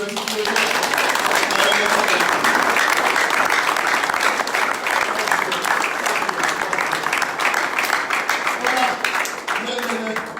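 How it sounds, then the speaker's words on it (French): A church congregation breaks into sustained applause and cheering, a dense wash of clapping that stays loud and steady throughout with voices mixed into the crowd noise. "Tu peux acclamer si tu le veux."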